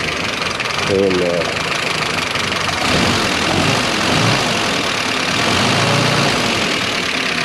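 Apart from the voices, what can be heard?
old jeep engine idling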